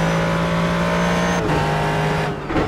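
A race car engine at Road America in the iRacing sim drones loud and steady with a constant pitch, then shifts gears twice in brief dips, with no voices.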